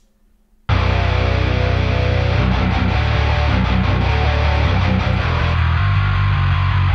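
Heavy metal riff played on a bass guitar through amp-modelling effects, starting abruptly after a brief silence, loud, dense and distorted with sustained low notes and palm-muted rhythmic chugs throughout.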